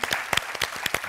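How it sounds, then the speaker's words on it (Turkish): Studio audience on a Turkish word game show breaking into applause, a short burst of dense, close clapping with rhythmic peaks and no talk over it. "Sizleri alkışlıyorum."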